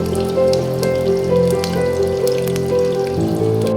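Chopped onion for a mutton curry sizzles and crackles steadily in a hot pan, close and fairly loud, with a faint low hum running underneath.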